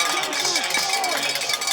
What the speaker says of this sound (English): Well, you hear the cowbells in front of us.